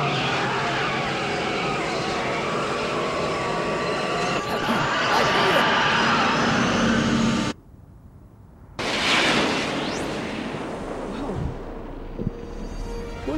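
A DeLorean in a Back to the Future video game accelerates toward 140 km/h with a loud, building engine roar and tyre noise, then cuts abruptly to near silence before a sharp burst of sound returns and fades.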